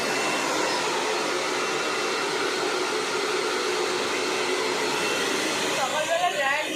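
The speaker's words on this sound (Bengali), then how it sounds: "একটু ড্রায়ার দেবো চুলে।" Hair dryer blowing on wet hair, a loud, continuous, breathy whoosh held steadily for several seconds with slight fluctuations near the end.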